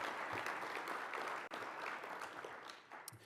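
A conference audience at a NANOG network operators' opening session gives a faint, distant round of clapping, a soft, continuous patter that tapers slightly toward the end.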